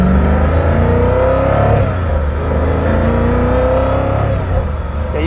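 A Koenigsegg Agera RS1 engine revs hard while driving, a loud, close rising and falling roar with pitch sweeps as it accelerates, running continuously with no talking over it.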